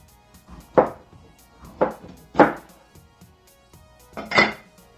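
A knife works through a dense red cabbage on a board with the core removed. Four distinct, sharp chopping strokes land at uneven intervals against quiet background noise, and no one speaks.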